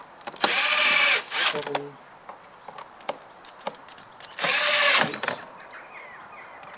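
Power driver runs screws into a plastic airbox on a Volkswagen Up! GTI during a performance air filter install, two loud bursts of about a second each with quiet clicks between, while a voice counts aloud.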